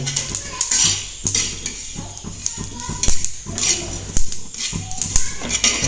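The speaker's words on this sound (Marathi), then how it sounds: "तिळ भाजतात मित्रांनो" Sesame seeds roasting in a pan for village-style mutton are stirred with a metal spoon, producing repeated sharp clinks and scrapes against the pan at an uneven rhythm, with a faint voice and soft background noise.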